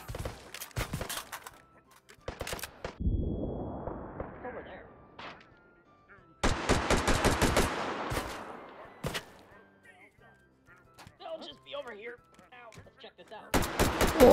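Repeated gunfire bursts and single shots in the VR shooter Hot Dogs, Horseshoes & Hand Grenades, loud rapid volleys separated by quieter gaps, with some talk between them.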